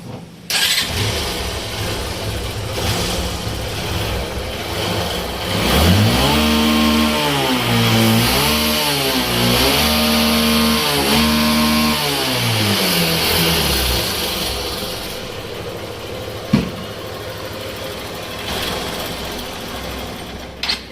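Honda Unicorn motorcycle engine cranked and started with a worn engine that smokes, catching and settling into a running idle with a few rises in revs, close and loud, followed by a sharp knock near the end.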